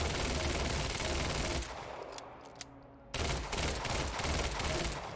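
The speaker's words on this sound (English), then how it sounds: "they want me to actually do it like I'm firing an SMG slow, or controlled burst." Rapid SMG bursts in the video game Quantum Break, loud and close: a sustained stream of shots, a short pause with scattered clicks and debris, then another long burst.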